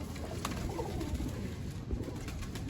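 Tumbler pigeons coo softly and repeatedly in the background over a steady ambient hiss, with no talking.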